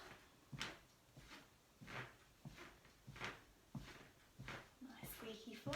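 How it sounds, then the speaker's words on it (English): A wooden floor squeaks and creaks under steady marching on the spot during a lower-body warm-up, each step landing in an even rhythm of about two per second, close and moderately loud with no talking. "Nice squeaky floor."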